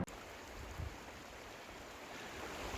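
Steady rush of a running mountain creek near Big Bear Lake, California, a constant even wash of flowing water heard close and alone.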